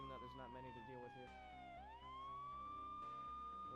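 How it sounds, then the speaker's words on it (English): A police car siren in GTA Online wails loud and steady, its pitch falling then sweeping back up, with engine rumble underneath. "We're just gonna put on our lights, sirens"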